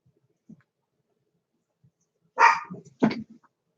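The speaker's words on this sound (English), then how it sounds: "I don't know why the dogs are barking." Dogs bark indoors at a distance, one faint yip followed by two louder sharp barks close together near the end, otherwise quiet.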